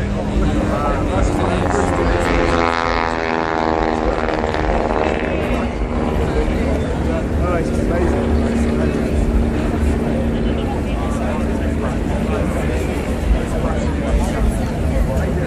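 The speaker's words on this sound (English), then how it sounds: "And a true sky full of aeroplanes, the average age of which is coming close to 100 years old." Droning engines of vintage biplanes nearly 100 years old passing overhead in a mock dogfight, a steady rumbling roar with shifting pitch, mixed with crowd chatter in the background.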